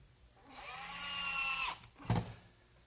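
A power drill drives a 1.5-inch screw into a wooden workbench top fastened to its frame, one rising whine lasting about a second, then a sharp thunk as it seats.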